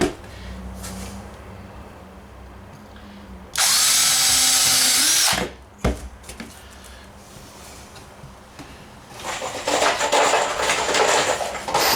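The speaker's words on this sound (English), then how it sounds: "I'm going to start at the bottom, pre-drill a hole, put a screw in it" A cordless power drill bores a pilot hole for a screw in a DIY travel trailer front bench seat. It whines loudly in one steady burst of about two seconds, and quieter handling clatter and a brief whirring follow.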